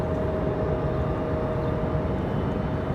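A Southwest airliner on its takeoff roll from runway 5 right, its engines giving off a loud, steady roar with a constant tone running through it, unbroken for the whole stretch and with no voices over it.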